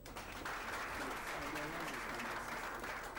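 A church congregation at the Kingdom Citizens Pavilion applauds together, a dense, steady wash of many hands clapping that stays loud and even throughout.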